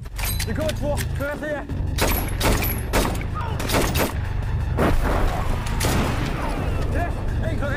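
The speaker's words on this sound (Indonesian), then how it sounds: "Aksi baku tembak pun terjadi antara Ed dengan Grafik melawan pihak musuh." Gunfire rattles through a war-film battle scene: rapid volleys of sharp shots and heavier booms crowd one another, loud and continuous, while a voice talks over the fighting.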